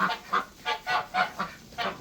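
Farm geese honk in a steady series of about seven loud, evenly spaced calls close by, with no talk over them.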